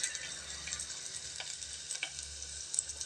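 Green chillies and ginger sautéing in a pan, a faint steady sizzle with a few light ticks, close but quiet and with no voices.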